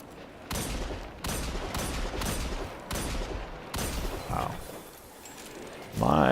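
Gunfire in a video game comes in several bursts of rapid shots that stop and start. The shots are loud and close, with short gaps between them and a brief sharper sound near the end.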